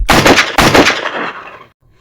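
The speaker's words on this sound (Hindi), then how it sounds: "एक साथ ही शोले उगलती चली गई दोनों की रिवाल्वरें।" Two revolvers fire together in a loud, close burst of overlapping gunshots, two main blasts with a ringing tail that fades to silence.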